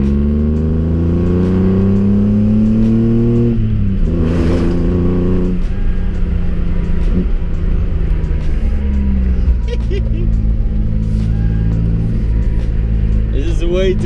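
A loud small car engine with a modified pops-and-bangs exhaust revs up through rising harmonics, then settles into a rough, burbling exhaust rumble with pops, close by; a voice briefly talks over it.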